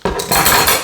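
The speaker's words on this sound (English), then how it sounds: "Can you pass me the spoon, please?" A spoon and dishes clink together at a dinner table over a meal of stir-fried noodles, a short loud, close clatter of cutlery against crockery.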